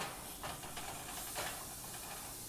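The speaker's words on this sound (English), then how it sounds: "Listen to that sizzle." Steady sizzling hiss of pork sirloin frying in a hot pan, broadband crackle with a few louder pops, close and continuous with no talking.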